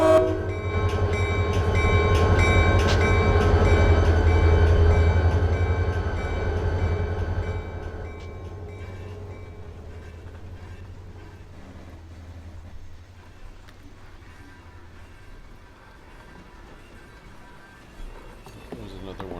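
Freight train in the Run8 train simulator game rumbling past loudly at first, then fading away into a quieter distant hum, with someone talking over it.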